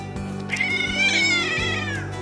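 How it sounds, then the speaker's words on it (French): Several cats meowing and caterwauling in a rocky Spanish village in the Serranía de Cuenca, one drawn-out, rising-and-falling yowl rising over lower grumbling cries, close and fairly loud with no talk. "Huit chats au moins."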